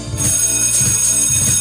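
Alarm bell sound effect, a sustained high metallic ringing with three pulsing low bursts underneath, loud and without speech.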